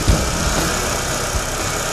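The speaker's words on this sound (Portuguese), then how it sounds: "O carro agora voltou à marcha lenta" Chevrolet Corsa 1.0 8V Flex engine idling, a low, fairly quiet rumble with slight irregular pulses over two seconds, no voices.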